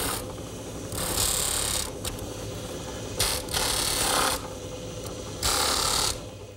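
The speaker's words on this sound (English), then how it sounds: "a little bit of touch-up sanding here at the drum sander" A drum sander grinds steadily against wood, with repeated louder hissing passes rising and falling every second or two, no voices.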